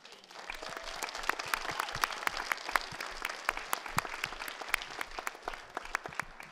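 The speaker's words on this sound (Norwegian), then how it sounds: "Så en svær applaus til absolutt alle som har vært med på revyen" Audience applause at the close of a local revue, loud sustained clapping from a full theatre crowd with dense overlapping claps throughout.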